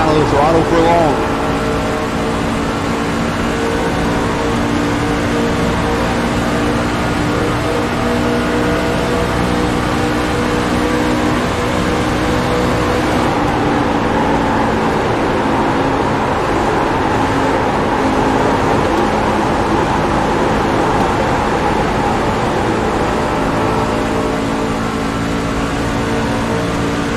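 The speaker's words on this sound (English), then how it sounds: "You can hear these trucks not out of the throttle for long." Race truck engines at full throttle during a USRC Truck Series event, a steady loud roar of several trucks with a commentator talking over it throughout.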